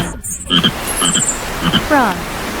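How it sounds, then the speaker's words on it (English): A frog croaking in a loud, close sequence of short rhythmic croaks and ribbits, several pulses ending in a rising trill, with no voices. "Frog."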